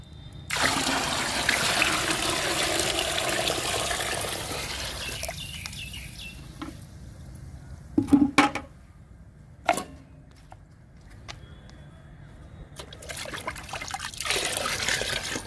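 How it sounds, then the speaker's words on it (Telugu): Water trickles and splashes steadily into a container to dilute a kitchen-waste liquid fertilizer for several seconds, then stops, followed by a few sharp knocks and clatters before a softer flow resumes. "వాటర్ పోస్తున్నాను."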